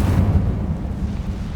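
Incendio fire spell cast in Hogwarts Legacy, a loud, rumbling burst like an explosion that hits at once and then roars on steadily through the short moment.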